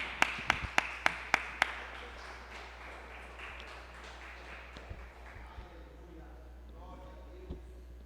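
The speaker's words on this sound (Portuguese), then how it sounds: "Vamos dar uma linda salva de palmas ao Senhor." Congregation at a church worship service clapping: a short run of about six sharp, evenly spaced claps at the start, then a softer murmur of voices and faint room noise.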